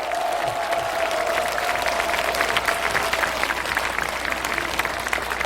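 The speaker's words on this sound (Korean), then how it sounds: "여러분 큰 박수 부탁드리겠습니다" Steady applause fills a hall during a Buddhist dharma closing service at Beopjusa temple, the audience clapping continuously at moderate volume with a faint sustained tone underneath and no voices.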